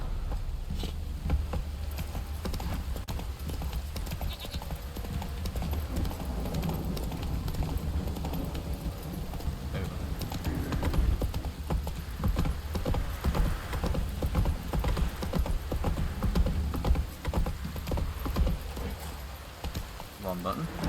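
Hooves of a horse trotting in The Witcher 3, a steady clip-clop running throughout over game ambience, with voices talking over it at times.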